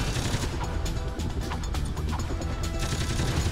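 Loud, dense bursts and crashes of explosions and weapon fire in the Ratchet & Clank HD Collection on PS3, a sustained roar of overlapping blasts with sharp cracks throughout, no speech.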